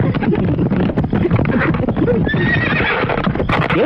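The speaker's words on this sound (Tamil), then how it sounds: "ஏசேரோட்டி, ஏன் வண்டியை நிறுத்தினாய்?" A horse-drawn cart clip-clops close by and slows, with hooves and cart rattle and a horse whinnying near the end as it comes to a stop.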